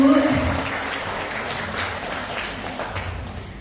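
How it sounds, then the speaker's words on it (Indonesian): Audience applause at a school parenting event on puberty, a broad wash of clapping that starts loud and slowly fades, with some murmured voices mixed in. "Mari tepuk tangan Bapak Ibu."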